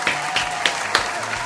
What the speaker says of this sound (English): let's go ahead and clap it up for me